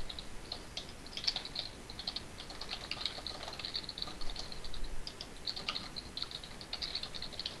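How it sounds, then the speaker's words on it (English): Rapid keyboard typing into in-game chat during Unturned, a steady patter of light clicky keystrokes running continuously at close range with no talk. "Typing into chat, don't take any pills."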